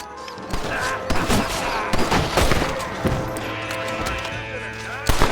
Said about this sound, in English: Shooting fresh air there, boy!